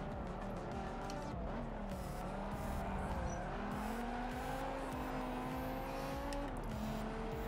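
Race car engine roaring continuously in Forza Motorsport 7, rising and falling through gear changes, with tire squeal and skidding as the car slides through corners, loud and steady throughout.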